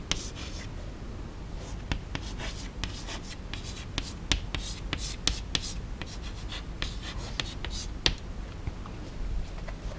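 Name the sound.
writing on the classroom board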